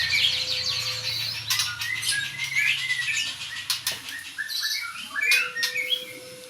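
Small birds in an aviary chirp and tweet with scattered high calls and fluttering over a busy background, fairly near and moderately loud, with no speech.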